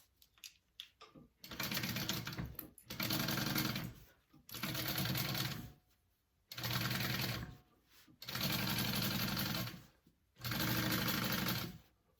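A sewing machine stitching a quarter-inch seam on the lining of a crossbody bag, running in six bursts of a second or two each with short pauses between, close and steady.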